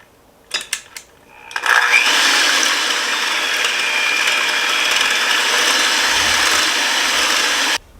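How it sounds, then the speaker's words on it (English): An electric hand mixer whips cream in a bowl, starting after a few clicks and knocks, then runs as a loud, steady whirring buzz for about six seconds before cutting off abruptly. "now I'm going to put my hand mixer on"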